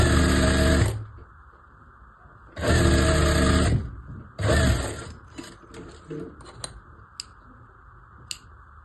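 A sewing machine stitches a one-year-old baby's frock in three loud, steady bursts of rapid mechanical whirring, separated by quieter pauses with small clicks and handling noises nearby.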